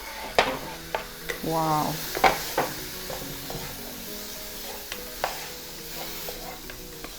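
Garlic and chili sizzle and fry in a hot pan while a utensil stirs and scrapes them, giving a steady hiss broken by sharp clacks, with a brief exclamation from a voice.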